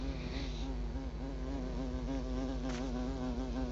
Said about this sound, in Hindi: मक्खी उड़ रही है